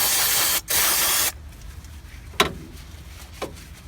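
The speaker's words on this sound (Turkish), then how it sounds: "Balata spreyi ile güzelce temizliyoruz arkadaşlar." Two long bursts of brake cleaner spray hiss close by on a car engine, split by a brief pause, then a couple of faint clicks follow in quiet.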